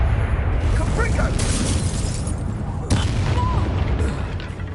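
Booming spell blasts from a Harry Potter video game, a dense, continuous roar of explosive bursts with a sharp hit near the three-second mark, loud and close, mixed with faint game voices.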